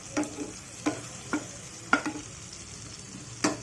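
Lentils are fried in oil in a pan and stirred, giving a low steady sizzle broken by about six distinct scraping stirs, close and alone with no talk.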